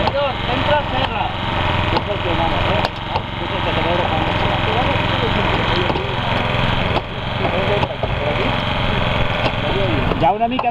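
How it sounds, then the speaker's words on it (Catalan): During a firefighter drill, a gasoline power saw is brought inside and drones steadily and loudly throughout, with short dips in pitch and voices talking over the engine. "Interior, entra serra."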